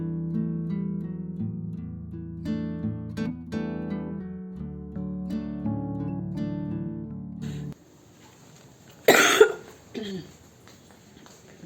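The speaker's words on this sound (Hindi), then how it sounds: "मुझे खांसी इतनी हो रही है ना" A single harsh cough bursts out near the mic after a stretch of music, followed by a quieter second breathy hack, then near silence.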